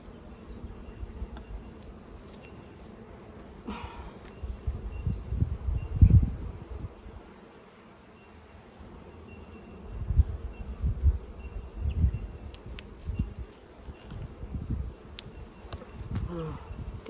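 Honey bees buzzing around an open hive during a beekeeping inspection, a continuous droning hum with swells as bees fly close, outdoors with faint rustling.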